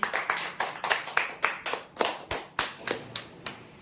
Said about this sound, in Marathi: जोरदार टाळ्या होत्या यांसाठी